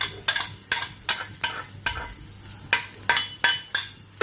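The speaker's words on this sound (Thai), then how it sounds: "คราวนี้เรามาเริ่มผัดกันได้เลยค่ะ ใส่น้ำมันพืชพอประมาณนะคะ ตามด้วยกระเทียมสับค่ะ" Chopped garlic stir-fried in vegetable oil, a spatula scraping the pan in a steady rhythm of about two strokes a second over a soft sizzle.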